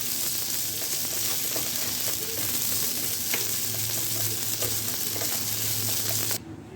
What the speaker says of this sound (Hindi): तो इसको जो है हम इसी तरह से बस मिक्स कर लेते हैं।